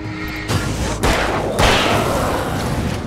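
Several sharp revolver gunshot blasts in the video game Alan Wake, each with a bright burst and a rumbling tail, fired over a noisy, echoing game soundscape.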